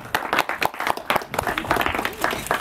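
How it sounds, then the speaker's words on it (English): Hand claps ring out for a US congressman at an honoring event, sharp, distinct claps from a modest crowd coming in an uneven, close rhythm, with scattered voices under them. "round of applause for Raja Krishnamoorthi."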